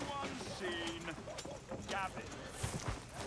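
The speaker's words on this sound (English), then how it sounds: "it's got two little donkeys pulling a thing" Two small donkeys pulling a cart in Red Dead Redemption 2, their hooves clopping softly and unevenly, mostly buried under a person talking, with a few firmer hoof knocks near the end.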